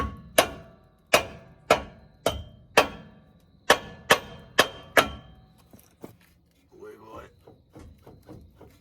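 Sledgehammer blows on the brake rotor and bolts of a 2015 Dodge Ram 2500 pickup, about ten sharp metallic strikes in a steady rhythm, close and loud, followed by quieter clinks and fumbling at the end.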